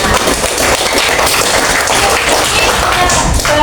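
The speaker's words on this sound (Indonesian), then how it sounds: "Tepuk tangan semuanya." A room full of participants in a training class breaks into applause, quick dense clapping that carries on for a few seconds.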